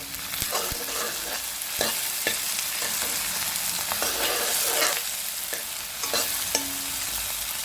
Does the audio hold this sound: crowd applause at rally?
no